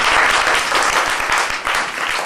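Children clap together to welcome a visiting doctor at a school health talk, a loud, dense burst of applause that holds steady with only slight dips throughout.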